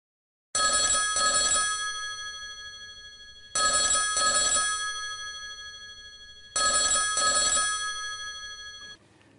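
Telephone bell rings in three evenly spaced bursts, each bright and sharp at first and then fading, clear and close with silence between the rings.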